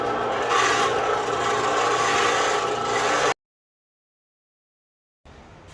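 A tool grinds against hard steel with a continuous harsh, rasping scrape for a few seconds, cuts off into silence, then briefly starts again more quietly.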